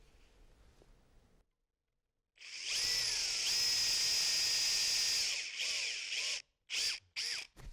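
A power drill bores holes in plywood, a sharp high whine that starts after a brief silence, runs steadily for several seconds, then ends in two short trigger bursts, close and loud.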